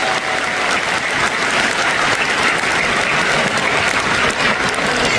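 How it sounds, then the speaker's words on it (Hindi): Loud, sustained applause from a large audience at an RCM motivational event, dense steady clapping filling the whole stretch with no pauses and no talk over it. "एक बार हम चाहेंगे आप अपने सम्मान में जोरदार तालियां बजा लें।"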